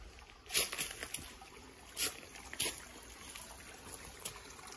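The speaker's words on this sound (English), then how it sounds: "Running water" A shallow creek runs over large rocks in the Australian bush on a hot day, with a steady soft trickle broken by occasional louder splashes and gurgles. No talking is heard.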